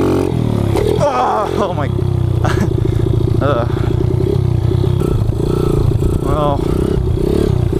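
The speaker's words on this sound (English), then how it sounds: "see if I can pull a wheelie with this" Kawasaki KLX 110 pit bike engine revving hard and falling back as the rider tries a wheelie on a dirt track, loud and close with rattling clatter, a voice briefly speaking over it.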